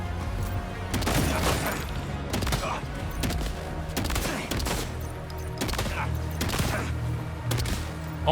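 Rapid volleys of gunshots ring out in the video game Death Stranding 2. The loud, repeated bursts come close together with barely a pause and continue throughout.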